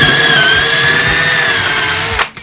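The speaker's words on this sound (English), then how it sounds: "Drill slowly. With moderate pressure, you do not want to break this drill bit off inside your barrel." A power drill runs at steady speed while a bit bores slowly into an airsoft rifle barrel held in a jig, a loud continuous whine with a stable pitch that cuts off abruptly at the end.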